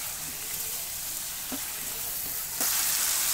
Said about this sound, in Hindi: इसे लहसुन अदरक डाल के और इसे अच्छे से हम भूनेंगे।